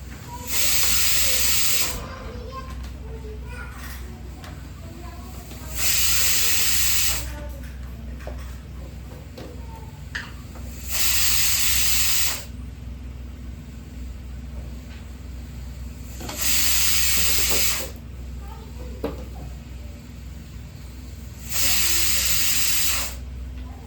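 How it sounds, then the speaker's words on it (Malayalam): A pressure cooker on the stove lets off steam in five loud, regular hissing bursts about every five seconds, over a steady low hum. "ആവി വന്നിട്ട് കുക്കറില് നമുക്ക് വെയിറ്റ് വെച്ച് കൊടുക്കാം"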